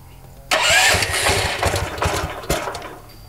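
A Spartan 727 machine's small engine cranks and catches, settling into a loud, close, uneven running rumble with sharp bursts at the start and midway.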